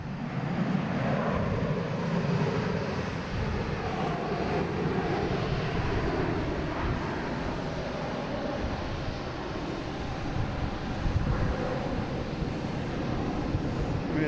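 A JetBlue jet airliner at Boston Logan International Airport gives a loud, steady engine roar that fills the whole stretch without letting up, with no voices over it.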